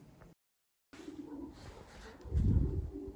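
Racing pigeons in a breeder's loft give soft, low cooing, with a brief silent gap early on, then a fuller, nearer burst of deep throaty coos toward the end over quiet room ambience.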